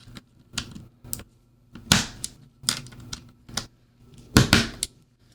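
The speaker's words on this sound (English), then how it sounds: "install the blue and brown switches so you guys can hear the difference between all three of them with the keycaps on" Keys clacking on a slim NuPhy Air75 low-profile mechanical keyboard with PBT keycaps fitted, switches swapped between red, blue and brown types; irregular bursts of close, crisp key presses at moderate loudness with short pauses between.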